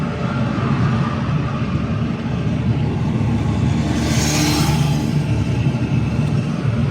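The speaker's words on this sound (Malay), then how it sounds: "Sambil-sambil kena bawa kereta dengan lajunya." A car driven fast gives a steady, loud interior drone of engine and road roar with no pauses, and a brief hiss swells midway through. No one speaks.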